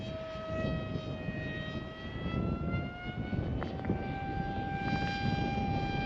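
Stealth-wing RC model aircraft performing full-rate test rolls, its motor giving a steady high whine with rising and falling pitch sweeps as it manoeuvres, continuous and moderately loud over wind noise.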